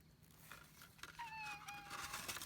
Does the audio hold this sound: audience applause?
no